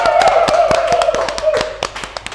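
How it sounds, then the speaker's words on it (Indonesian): Several people clap hands during a live baking demo, quick sharp claps in an uneven rhythm, heard close over a sustained tone and background chatter. "Udah main tepuk tangan aja."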